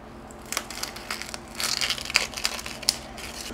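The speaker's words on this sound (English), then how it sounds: "right now I'm gonna cut my onion" A knife cuts through an onion in a few close crunching, crackling strokes, with crisp bursts of sound between short quiet gaps and no talking.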